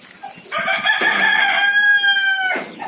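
A free-range village rooster crows loudly and close by in one long cock-a-doodle-doo, with a short cluck at the start.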